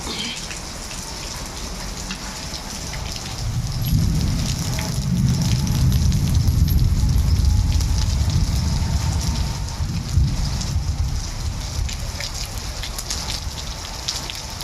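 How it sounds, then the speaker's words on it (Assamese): Rain pouring down outside a home onto an empty road, an even hiss of drops that swells into a heavier, deeper roar midway and then eases again, with no voices. "বাপৰে বৰষুণ পৰি আছে"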